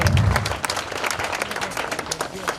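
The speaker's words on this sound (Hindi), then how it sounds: "आज हम और एक बार जोरदार तालियों के साथ" Audience applause welcoming a guest at a school event, sustained clapping from a large crowd heard close and full, holding steady for the whole stretch with a low voice at the start.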